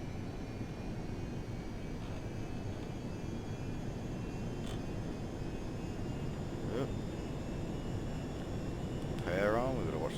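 A Virtavia Javelin jet in Flight Simulator X holds a steady engine roar throughout, loud and continuous. A faint chirp rises near the end.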